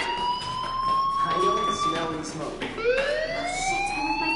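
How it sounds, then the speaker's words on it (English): A fire alarm wails through the school in Life Is Strange, loud rising and falling electronic tones that sweep up again and again and fill the whole stretch. "do you hear that fire alarm?"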